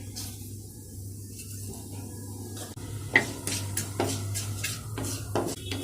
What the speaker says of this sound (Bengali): এই গরম তেলের মধ্যে অ্যাড করে দিচ্ছি কালো জিরে